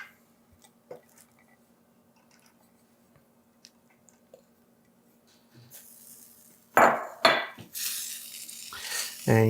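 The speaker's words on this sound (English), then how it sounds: "I'm actually going to cut the heat and add in our cheese." Shredded sharp cheese tumbles into a pot of macaroni and gets stirred, making loud wet squishing and scraping bursts in the last few seconds after a near-silent stretch.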